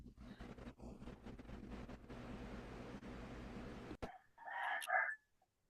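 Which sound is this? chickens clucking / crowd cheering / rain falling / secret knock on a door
chickens clucking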